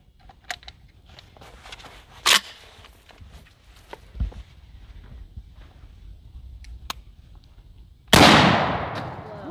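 A single loud, sharp shotgun blast fired at a TV ends the clip, preceded by quiet outdoor shuffling and a few small knocks; the close report decays with a ringing tail.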